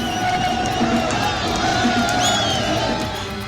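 A dense crowd of political supporters at a nomination rally in Mandi, Himachal Pradesh, roars with cheering and chanting in a continuous, distant wash of voices.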